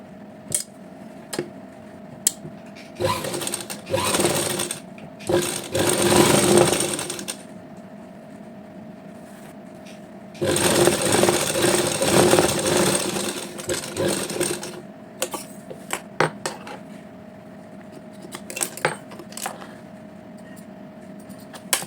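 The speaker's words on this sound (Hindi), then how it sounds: "यहाँ से हम एक सीधी सिलाई लगाएंगे।" A sewing machine stitches a straight seam on salwar fabric in two bursts of rapid needle whirring, close and clear, separated by quieter handling clicks and fabric rustles.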